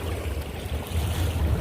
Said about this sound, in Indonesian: Terus ini ada suara gemuruh, ini adalah ombak-ombak kecil yang ada di daerah ini